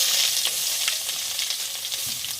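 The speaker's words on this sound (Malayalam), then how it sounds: "സവാള ഒന്ന് നന്നായിട്ടൊന്ന് വഴണ്ട് വരട്ടെ" Onions sautéing in a pan, after urad dal has browned in the oil, give off a steady close sizzle with a few soft stirring scrapes, and no one speaks.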